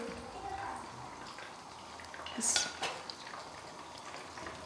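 Metal utensil scraping and clinking against a pan while fried stuffed chicken onion rings are lifted out one by one from bubbling oil, a soft sizzle underneath and a brief sharp clink in the middle.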